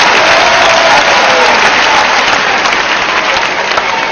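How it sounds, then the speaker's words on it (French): A live audience applauds loudly and steadily at a comedy show with a DJ, dense clapping filling the space close up and holding at a constant level throughout. "Applaudissez"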